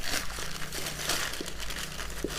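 Paper crinkles and rustles close by in a busy, scratchy stream, with a few sharper crackles standing out; no one speaks.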